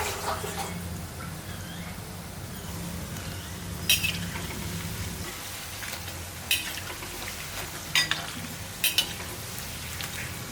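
Snake gourd pieces coated in masala deep-fry in hot oil with a steady, fairly quiet bubbling sizzle, broken by a few sharp clinks of a utensil against the pan.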